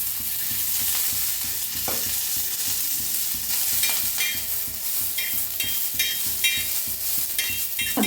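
Peeled garlic and green chilies frying in oil for thecha, a steady close sizzle with a low hum underneath and repeated sharp scraping taps of a spatula toward the end, no talking.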